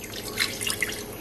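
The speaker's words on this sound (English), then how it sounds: "I'm going to add some water in here" Water is poured into a pot of owo soup during cooking, a brief close trickling splash with a few bright drip-like splatters, heard on its own without talk.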